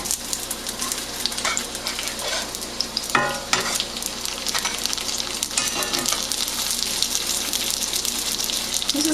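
Egg rolls fry in a pan with a steady close sizzle and popping, punctuated by scraping and clinks as they are turned.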